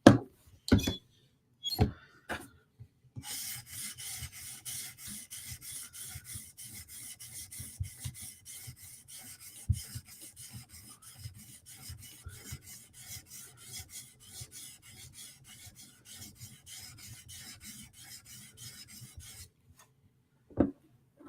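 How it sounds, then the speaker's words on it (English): A Tanto M4 knife blade in PM2 steel is polished on a sharpening stone, giving a steady close-up rasping rub that runs continuously for most of the stretch, framed by a few sharp knocks at the start and end, with no talking. "so the stone stays flat on the bevel and you polish everything out nice and even"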